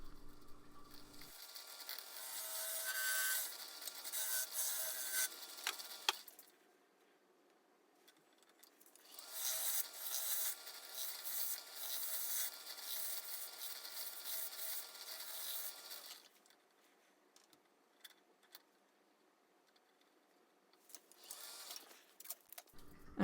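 Sanding a wooden goblet with captive rings, a steady broadband rubbing hiss in two long bursts separated by a quiet pause, then fading to near silence before a brief return at the end.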